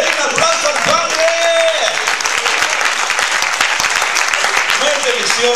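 Church congregation breaking into loud, dense applause that holds steady throughout, a close wall of many hands clapping with scattered voices mixed in.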